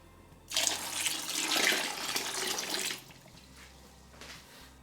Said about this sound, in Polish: Teraz dolejemy wody.